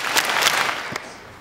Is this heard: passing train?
no